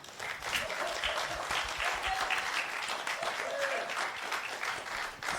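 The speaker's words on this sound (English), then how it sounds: "how about a round of applause for both of them?" An audience at a League of Women Voters candidate forum for Assembly District 42 breaks into steady, full applause. The clapping is loud and sustained for several seconds and sounds nearby.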